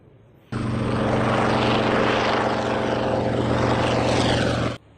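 Toy plane switched on, a loud continuous buzzing propeller-like whir starting abruptly, holding steady for about four seconds, then cutting off.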